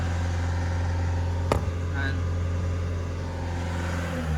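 A steady, loud Nissan diesel engine drone runs throughout with a low constant hum and a single sharp knock midway; no clear rise in revs. The engine has DPF limp-mode faults.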